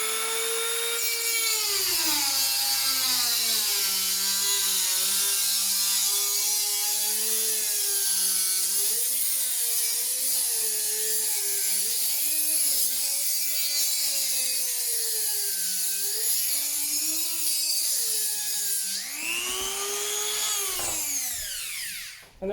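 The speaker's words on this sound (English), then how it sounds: "you're gonna grab the Dremel and you're gonna hold it vertical, and we're just gonna cut an opening in there" A Dremel rotary tool whines at high pitch while cutting an opening in a glass mirror closet door, its tone wavering as it bogs and recovers under load, loud and close for the whole stretch.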